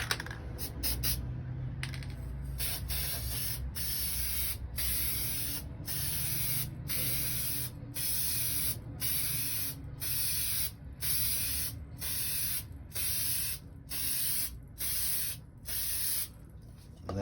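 Plasti Dip sprays in repeated short hissing bursts, each a second or two long with brief pauses between, a close and loud aerosol sound applied in coats.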